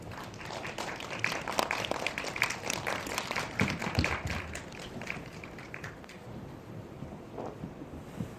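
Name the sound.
audience applause welcoming film directors and actors to the stage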